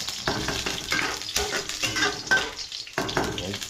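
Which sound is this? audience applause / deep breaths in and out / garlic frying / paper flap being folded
garlic frying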